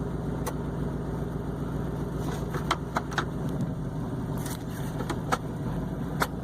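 A pickup's 5.3L V8 runs at a steady mid-pitched drone with sharp clicks and bangs scattered over it, sounding close by, with no voices.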